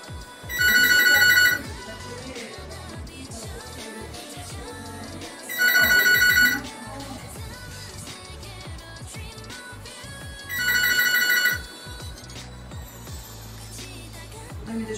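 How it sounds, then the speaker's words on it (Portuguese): A telephone bell rings in three loud bursts about five seconds apart, each lasting around a second, over steady background music with no talking. "E eu não vou atender o telefone."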